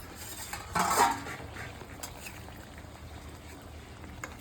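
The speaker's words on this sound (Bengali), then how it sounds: "ওই ঢাকনাটা তুলে নিতেছি" A pot lid lifted off a simmering fish curry in a home kitchen, one short metallic clink and scrape, followed by faint bubbling and a few small knocks.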